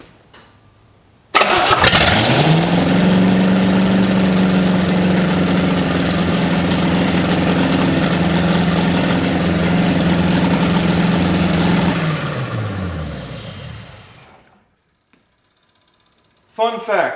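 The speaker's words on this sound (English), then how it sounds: "let's hit the key and see if it spins over" A 1955 Chevy, stored 20 years in a shed, cranks briefly and catches, then runs loud and steady at a rough idle for about ten seconds before dying away, with a short clunk near the end.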